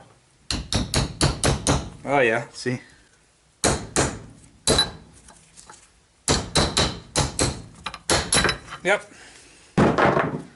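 A hammer taps a new seal into the front hub of a Yamaha Kodiak or Grizzly ATV, in quick bursts of sharp metallic knocks separated by pauses, close and loud, with someone speaking briefly between the groups of taps.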